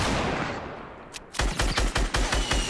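Gunfire in a team video game: a dense wash of noise fades out, then rapid, evenly spaced shots ring out close and loud in quick succession.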